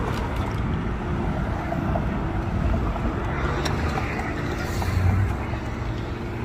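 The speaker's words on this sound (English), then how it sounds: "sorry about the car sounds" Steady roar of passing traffic on a nearby road, a broad rumbling wash with swells as vehicles go by, heard outdoors with no clear speech over it.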